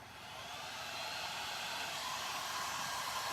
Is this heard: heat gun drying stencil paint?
yes